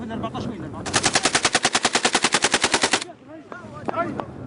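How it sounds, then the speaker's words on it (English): Heavy machine-gun fire in the Brega battle in Libya, among sand dunes: a rapid, loud burst of about twenty evenly spaced shots over two seconds, with scattered shouting before and after. "Both sides exchange heavy fire, with sand dunes the only place to hide."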